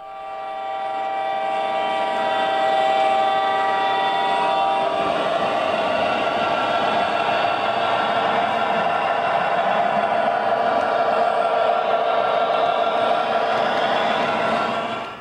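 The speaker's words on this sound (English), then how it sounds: "this eastbound Southern Pacific freight starts slowly down the hill" An O gauge model Southern Pacific freight train rumbles steadily downhill along the track, its continuous rolling drone swelling and holding loud throughout, with no voices.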